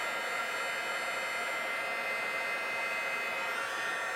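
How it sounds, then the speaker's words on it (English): A heat tool blows hot air steadily and loudly at close range to dry stamped ink, a constant even whoosh with no breaks. "to help speed along the drying process, I'm just going to use my heat tool"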